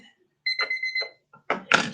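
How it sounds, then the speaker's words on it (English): A kitchen timer alarm goes off in two short beeping bursts, with a clatter and a voice close by as it is silenced. "That was my timer."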